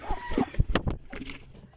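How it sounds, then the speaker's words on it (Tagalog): Free-range heritage cross chickens cluck and squawk close by in a short burst of several sharp calls, settling into quieter clucks. "Mga kaputak."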